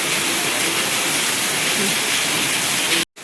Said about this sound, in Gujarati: અત્યારે જોરદાર વરસાદ ચાલુ થઈ ગયો અમદાવાદમાં બપોરના